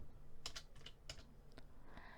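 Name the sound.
typing on a computer keyboard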